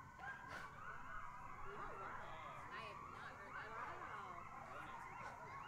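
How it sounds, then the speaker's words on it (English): Coyotes yip and howl, their cries rising and falling in a wavering chorus, with distant sirens wailing mixed in, steady throughout. "You got the coyotes and the sirens."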